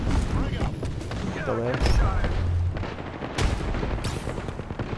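Airstrike explosions in a battle royale shooter, heavy booms and crackling blasts rolling under continuous gunfire for several seconds while a player talks and swears over them.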